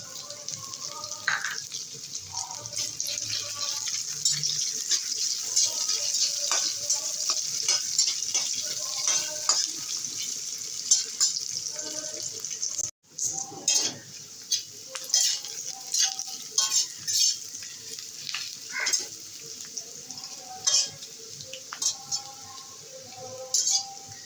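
Dried red chilies and onion fry in hot oil with crushed garlic, a steady bright sizzle running throughout while a utensil stirs and clinks against the pan, with a brief break midway before the sizzling and scraping resume.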